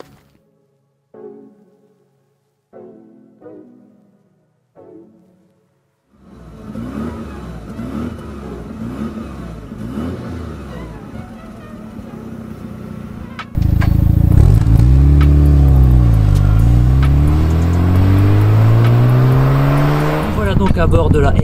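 Mazda RX-7 FD with a twin-turbo two-rotor engine starting off, quiet knocks first, then a droning rotary engine note rising in pitch, and louder revving and accelerating toward the end, with people talking over it.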